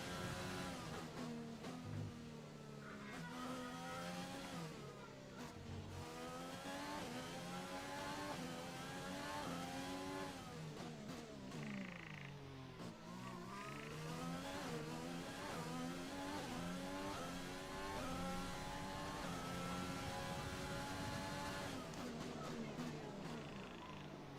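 An F1 car races round the Singapore Grand Prix in the F1 2020 video game, its high engine whine climbing and dropping through repeated gear shifts, steady and prominent throughout, with a voice talking underneath.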